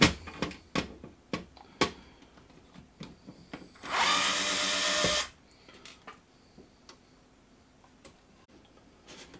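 Screws being removed to take out the fan of a PS4 console: scattered small ticks and clicks around a single loud, steady whirring burst of about a second.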